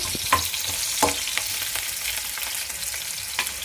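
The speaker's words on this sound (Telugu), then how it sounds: "ఎండుమిర్చి ఉల్లిపాయలు వీటిని కూడా మంచిగా ఫ్రై చేసుకోండి హై ఫ్లేమ్లోనే పెట్టుకోండి" Dried red chillies and onions frying on high flame in a pan, with a loud continuous sizzle and a few sharp crackles and spatula scrapes.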